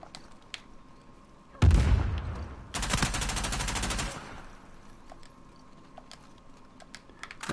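Gunfire in the Uncharted 4 multiplayer video game: a heavy burst of shots, then a longer rapid stream of automatic fire lasting over a second, loud against a quiet background with faint clicks.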